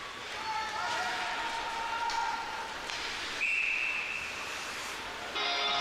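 A referee's whistle sounds at a women's OWHA hockey game, a sharp sustained blast heard over arena crowd noise and commentary, with further whistle tones and spectator chatter nearby.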